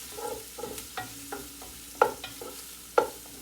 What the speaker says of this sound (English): And let this saute.